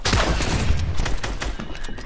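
Gunfire in a video game, a dense burst of rapid overlapping shots crackling close and loud for a couple of seconds, with no voices over it.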